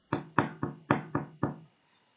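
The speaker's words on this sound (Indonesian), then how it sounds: "Contohnya juga ada teman kalian mengetuk-ketuk meja." Knuckles knock on a table six times in a quick, even series, each rap sharp and close, after which the room falls silent.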